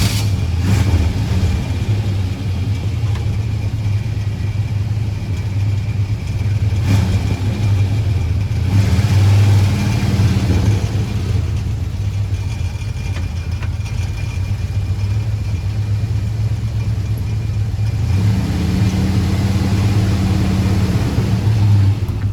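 A 1971 Chevy C10 pickup truck's engine runs steadily while the truck backs up in reverse, a continuous mid-pitched drone that swells in two stronger revving passes, recorded close and without talk.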